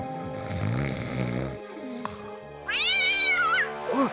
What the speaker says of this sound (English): Who let that blasted cat in here?